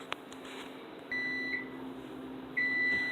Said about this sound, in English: All right, so our timer's going off now.